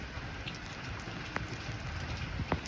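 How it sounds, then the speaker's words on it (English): Rain falling in a Southern California garden with fruit trees, a steady close hiss of drops hitting surfaces with a few sharper individual drips standing out, no voices over it. "I'm out here in the rain and I'm loving it"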